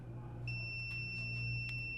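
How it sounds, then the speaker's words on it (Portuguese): A multimeter in continuity mode beeps while its probes test an electronic component such as a capacitor, resistor or coil, giving a steady high electronic tone that starts about halfway through and holds over a low background hum. "Tem que bipar. Se não bipar, ela tem algum defeito."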